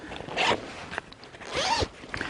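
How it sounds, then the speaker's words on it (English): A two-way zipper on a Tasmanian Tiger Mission Pack backpack being pulled open in a few close, quick rasping strokes, with brief pauses and small handling clicks between them. "Again, there's a two-way zipper,"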